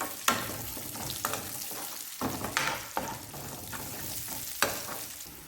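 Onions sautéing in a pan for squid curry give a steady, soft sizzle under repeated scraping stir strokes from a utensil, close and fairly quiet.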